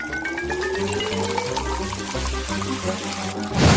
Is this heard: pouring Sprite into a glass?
yes